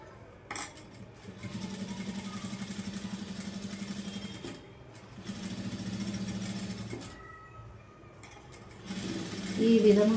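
A sewing machine stitches lining cloth onto a blouse along a piping seam, running in two steady whirring bursts separated by a pause while someone talks over and between them.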